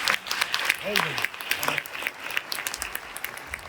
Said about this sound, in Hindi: आपकी इन तालियों की गड़गड़ाहट से हमें वो ऊर्जा वापस मिलती